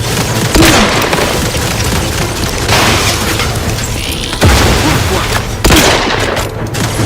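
Loud grenade explosions and gunfire in the video game Outer Worlds 2, with heavy booms around the middle and near the end over a steady roar of combat and shooting.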